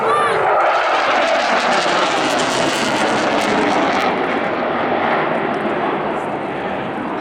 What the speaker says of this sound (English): 2026 Royal Air Force Typhoon display.